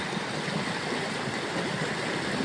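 A steady, broad rush of flowing water, constant and fairly loud, like a swollen river running close by; a flooded river in Darewadi, Mudkhed taluka, crossed on foot by farmers.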